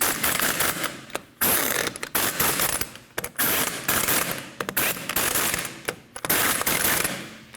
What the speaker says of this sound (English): install your lug nuts. You want to tighten those down in a star pattern.